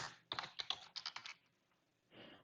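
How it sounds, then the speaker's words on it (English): Typing on a computer keyboard while working in Tableau: quick bursts of close, clicky keystrokes for about a second, a pause, then another short soft flurry, with no talking. "I bet my keyboard is very loud."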